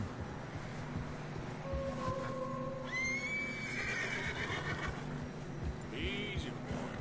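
A horse whinnies loudly in Red Dead Redemption over a steady windy, rumbling background, with a second shorter neigh near the end; a voice murmurs faintly underneath.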